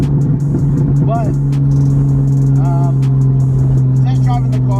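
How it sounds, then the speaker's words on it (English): A Datsun with a 535hp RB25DET engine being warmed up for a test drive with a hesitation issue, a steady close engine drone with a low constant hum and faint whining tones. "test driving the car real quick."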